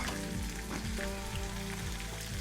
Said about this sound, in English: Chuck those onions in to fry off as well.